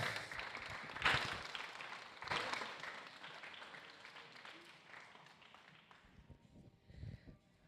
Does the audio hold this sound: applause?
yes